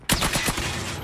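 Rapid-fire nail gun shots from the mobile shooter Call of Duty Mobile form a loud, dense burst of overlapping gunfire that starts abruptly and holds without a break.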